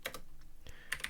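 A handful of quick keystrokes on a computer keyboard as a Linux terminal command is typed, close but faint, with no voice.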